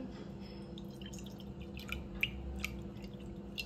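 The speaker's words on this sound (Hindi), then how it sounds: "एक कप पानी डाला है," Water poured from a cup into a pan for dhokla on a gas stove makes quiet splashes and scattered drips over a low background hum, with no talk.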